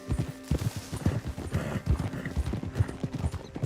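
A horse in the Wild West setting of Red Dead Redemption 2 clip-clops along in a close, rhythmic run of hoofbeats, with a short whinny partway through.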